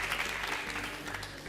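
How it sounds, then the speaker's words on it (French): Applause from the studio audience and contestant on a French midday TV quiz show, a steady dense patter of clapping filling the whole moment with no talk over it. "Et Emilien vous applaudit parce que c'est courageux."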